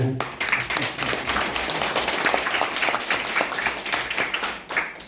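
Clapping breaks out from the audience at a barefoot-walking lecture during a civic movement workshop. It is a fairly close, busy patter of individual claps that fades toward the end.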